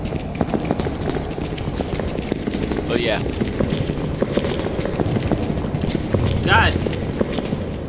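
Footsteps in a horror video game, a steady run of quick, fairly loud steps throughout, with players talking and exclaiming over them.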